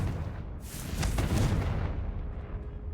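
A Confringo spell explosion effect gives a soft, muffled boom with a crackling burst that swells and fades over a few seconds, heard fairly quietly.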